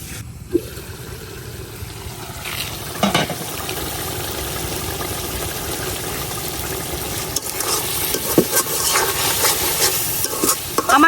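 Taki fish sauté in a hot pan with oil while being stirred, a steady close sizzle with occasional scraping clatter from the utensil, no voices over it.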